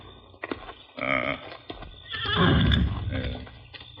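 A horse whinnies loudly in an old radio drama, with a snort and scattered hoofbeats on hard ground nearby.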